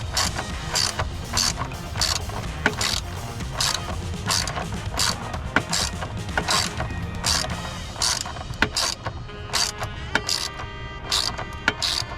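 Ratchet clicking steadily as it tightens a transmission mount bolt on a BMW Z3 (E36) during a polyurethane mount install, close and loud with repeated bursts of clicks and metallic creaks.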